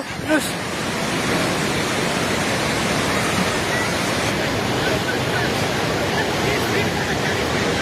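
The Trishuli river in Nepal, flooding after sudden heavy floods that submerged a riverside bazaar, rushes past as a steady, loud roar of churning water, with faint voices in the background.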